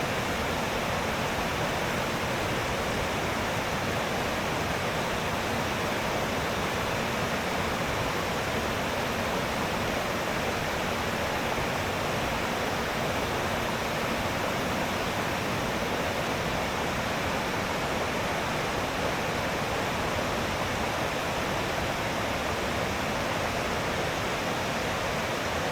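Rhaeadr Ddu, the Black Waterfalls in Wales, pours out a steady, broadband roar of falling water that stays loud and unchanging throughout, with no voices over it.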